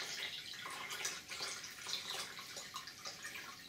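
Water is poured steadily into a hydroponic container for chili plants indoors, a continuous splashing, bubbling stream at close range with no talk over it.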